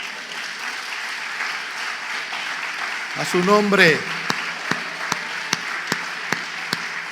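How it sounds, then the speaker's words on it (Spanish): A church congregation claps along steadily, a faint continuous patter under a preacher's voice that swells briefly mid-way, with a few sharper isolated claps standing out afterward. "¿Cuánto pueden dar un aplauso al Rey?"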